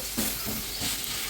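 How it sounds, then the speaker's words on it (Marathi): Onion tadka sizzles in hot oil on a biogas stove in a rural kitchen, a steady close hiss with a few brief bursts of spattering as the pan is stirred. "तर आपल्या गोबर गॅसवर मस्त तडका करायचं काम चाललेलं आहे"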